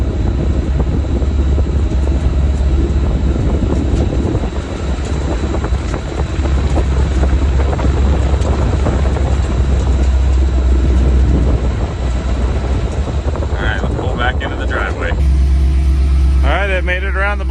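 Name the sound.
1955 F1 Hill Billy Express car test drive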